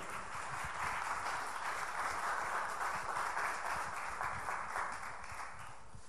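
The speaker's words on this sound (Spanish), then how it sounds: "Den un aplauso al Señor." A church congregation applauds together in a sustained wash of clapping that swells and holds steady, then eases slightly toward the end, with no voices over it.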